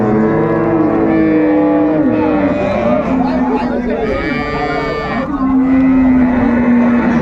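Dairy cows and calves of an improved breed low and moo at Raniganj cattle market in Dinajpur, Bangladesh, loud and close, with drawn-out calls over a constant background of crowd chatter.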